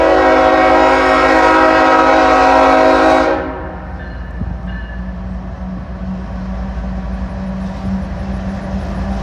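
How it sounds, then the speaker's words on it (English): A Norfolk Southern pusher locomotive heading back down a hill blasts a long, loud horn for about three seconds, then its engine rumbles on steadily as it rolls away. "There goes the pusher locomotive back down the hill."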